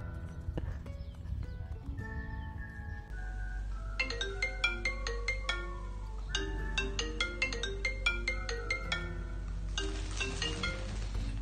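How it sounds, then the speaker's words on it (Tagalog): A cheerful melodic phone ringtone plays for an incoming call, a steady repeating tune with bright chiming notes and a clip-clop rhythm, loud and alone with no talking. "Oh my God, tumatawag ang crush ko."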